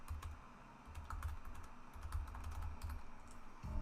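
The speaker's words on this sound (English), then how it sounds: "Sorry for the typing sounds." Quiet, rapid clicking of keys on a computer keyboard in uneven bursts, close by with no talking.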